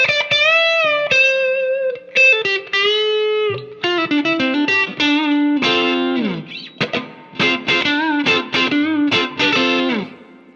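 Electric guitar played through a custom Hiwatt 40 amp with a Wampler compressor and plate reverb, loud and close, with sustained notes and quick chord runs trailing into a lush reverb tail, heard alone.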